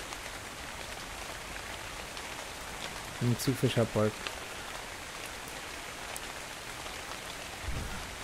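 Steady rain falls in the survival video game Dark and Light, a constant broadband hiss throughout, with someone speaking briefly over it in the middle.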